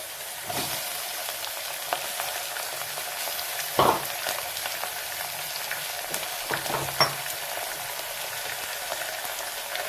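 Mutton fries in oil in a pot for a wedding-style meat curry, a steady close sizzle broken by a few sharp clinks of stirring, with no voices.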